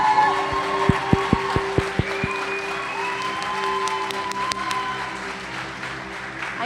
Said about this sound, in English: I think we should all put our hands together for a round of applause.